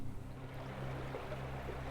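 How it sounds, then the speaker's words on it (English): Steady broad rush of Prairie Creek running high after heavy rain, flowing beneath a bridge in a redwood park, a continuous even wash with no voices. "There's a lot of water flowing through here because of all the rain we've been having."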